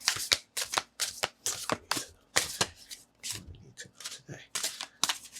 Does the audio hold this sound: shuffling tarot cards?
yes